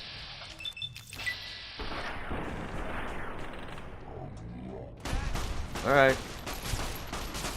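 Gunfire in the Fallout: New Vegas video game, a powerful gun firing in dense bursts and sharp blasts mixed with game effects, loud and close, with someone briefly speaking over it.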